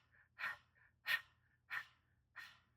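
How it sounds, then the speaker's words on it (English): Human panting through an open mouth in a Breath of Fire exercise, four sharp close breaths in a quick even rhythm, each loud exhale followed by a softer intake, alone. "now through an open mouth, we're going to pant just like, we would as if we were pretending we were a dog panting"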